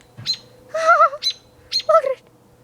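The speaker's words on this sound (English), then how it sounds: "Look at that bird." A bird swooping at a person outdoors lets out a string of sharp chirps and squawky calls in short, close, fairly loud bursts, with no talking.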